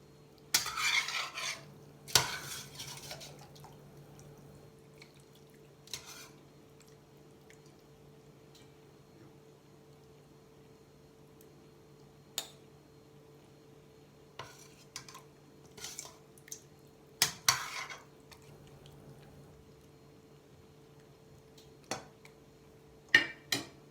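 A spoon stirs an eggplant güveç stew in a pot, with sparse scraping clinks and soft wet squishes scattered over a quiet low hum.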